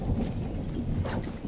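The storm in the Fortnite video game rolls as a low, continuous rumble like distant thunder, with a few faint higher crackles over the short stretch.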